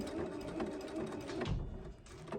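Husqvarna Viking sewing machine stitching fabric through a new 5/8-inch quilt binder attachment, a steady fast mechanical whir with ratcheting clicks running continuously and close throughout.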